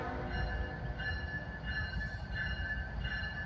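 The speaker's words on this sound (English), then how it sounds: "we got a train coming in" A CSX freight train rolls into Maxwell rail yard in Greenwood, South Carolina, with a steady heavy rumble and repeated high metallic wheel squeals at moderate distance.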